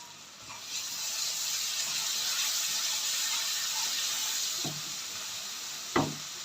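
Ginger and masala fry in hot oil with a constant close hiss and sizzle. A few sharp clicks and scrapes of a utensil cut through it, the loudest near the end.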